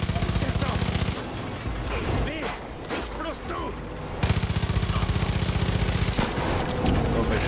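Rapid bursts of automatic gunfire from the video game Far Cry 5, loud and repeated in two stretches with a quieter gap of game action between them, while a player talks over the shooting.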